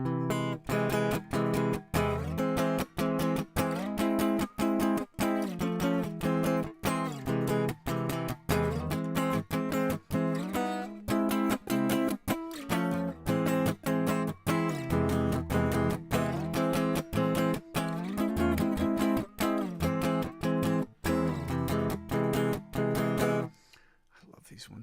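Guitar plays augmented chords on strings 2, 3 and 4, a long run of evenly rhythmic strums climbing and shifting positions, loud and close, ending in a brief quiet tail.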